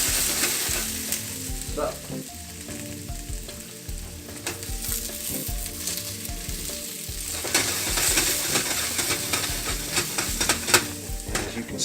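Potatoes frying in a pan on a stove, a steady close sizzle with repeated scraping and clacking as they are stirred, a brief word spoken near the start.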